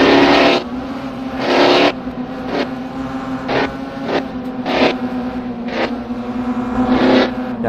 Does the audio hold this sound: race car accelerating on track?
yes